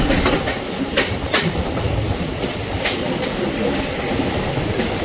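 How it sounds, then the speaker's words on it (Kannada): A Mumbai local train passes near CSMT station, a loud steady rumble of wheels with rhythmic clickety-clack and occasional sharp metallic squeals. "ಅದು ಲೋಕಲ್ ಬಂದು."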